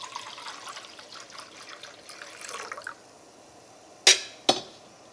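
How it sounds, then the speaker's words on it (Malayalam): Water trickles and splashes steadily into a cooking pan for a semolina (rava) dish, close and fairly soft, then stops, followed by two sharp knocks. "ഈ പാനിലേക്ക് നമ്മൾ ആ റവ എടുത്തേക്കണ സെയിം ഗ്ലാസ്സിൽ തന്നെ 2 ഗ്ലാസ് വെള്ളം ചേർക്കാം."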